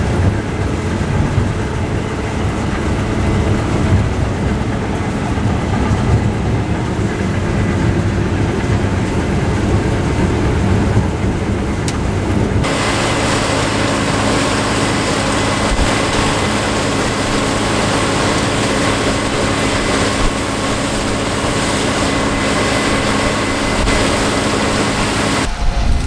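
Combine harvester working a field of white beans, a steady heavy engine drone with wind buffeting throughout, the roar shifting and brightening midway as the machine changes pace.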